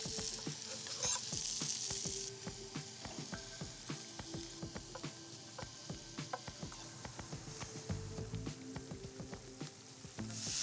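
Scallops sear in a hot sauté pan, a continuous bright sizzle broken by frequent sharp clicks and pan knocks as they are moved and turned, close and steady throughout.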